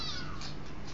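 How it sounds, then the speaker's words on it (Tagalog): A kitten nursing on a dog gives a single short, close meow that rises and falls over less than a second. "Pusa, dumedede sa aso."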